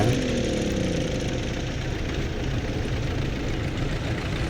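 An MTZ tractor engine runs in Farming Simulator 17, giving a steady, close, low rumbling idle with a constant throb and no voices over it.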